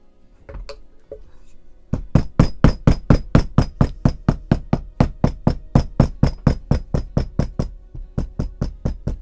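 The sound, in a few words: hammering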